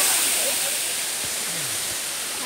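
Ng Tung Chai waterfall in Hong Kong roars as a steady, dense broadband rush of falling water, close and loud, with a faint voice briefly underneath.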